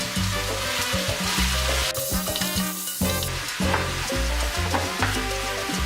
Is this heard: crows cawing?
no